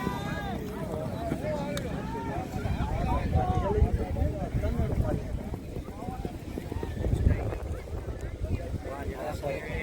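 Hooves of a young horse moving in the rewal gait at a horse race meet beat a quick, even clip-clop rhythm close by, mixed with wind noise and someone talking throughout.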